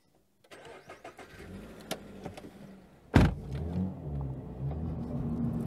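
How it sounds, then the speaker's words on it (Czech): A Toyota GR86 sports car's engine cranks and catches with a sharp loud burst, then settles into a steady idle after some faint clicks and mechanical noises. "Pojďme si ukázat, jak jim maká ten motor."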